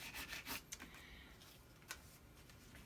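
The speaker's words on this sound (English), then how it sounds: "I'm just going to take my card and rub over the top or burnish the top." A card rubbed firmly over transfer tape to burnish it, giving close, scratchy scraping strokes that are loudest at the start and then soften into lighter rubbing, with no talking.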